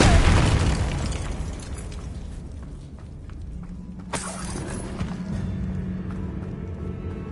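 In Hogwarts Legacy, a Confringo spell goes off as a booming fiery blast, followed by a fading rumble and a second sharp burst with crackling debris.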